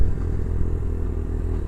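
A Herald Brat 125 learner motorcycle accelerates in second gear at around 5,000 revs and roughly 15 mph. A steady, close engine drone holds throughout with a slight rattle, and no voices are heard.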